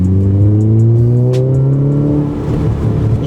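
A car engine revs hard under acceleration, loud and close, with a rising drone that climbs steadily through the gears and no talking.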